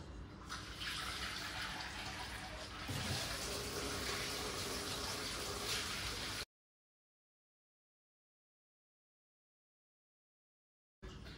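Clean rinse water running steadily from a tap, a loud continuous rushing stream that cuts off abruptly to silence, then briefly resumes at the end.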